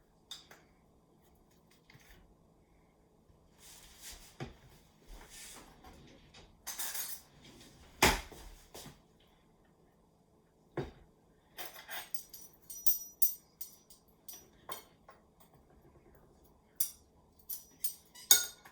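Cutlery and a knife clink and tap against dishes in a kitchen while ham and cheese sliders are put together, giving scattered, sharp, close metallic clicks in irregular bursts with quiet gaps between them.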